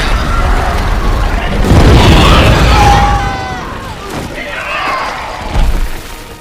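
Film-scene explosives ignited by a tossed match go off in a heavy, loud boom with crashing debris, then a second, smaller blast follows, all booming and rumbling throughout.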